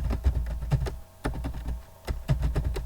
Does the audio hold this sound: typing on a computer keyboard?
yes